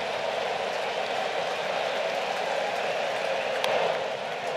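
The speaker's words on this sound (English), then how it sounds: "Crowd on their feet." A baseball stadium crowd on its feet at a Cubs–Cardinals game, with the Cubs down a run and down to their final out: a dense, steady roar of cheering that holds unbroken throughout.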